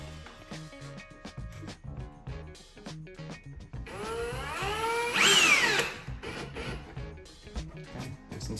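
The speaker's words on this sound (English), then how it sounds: "this is where I grab my driver as well" A power driver drives screws into Knobwell door knob hardware in short, close whirring bursts, with one longer rising spin midway and small handling clicks between runs.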